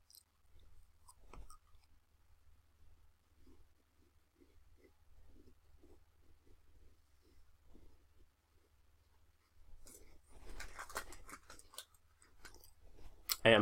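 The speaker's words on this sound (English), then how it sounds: "I'm chewing some biscuits now" Someone chewing biscuits close to the microphone: soft irregular crunches and mouth sounds, quiet at first, growing louder and denser toward the end, with faint game sounds underneath and no talk.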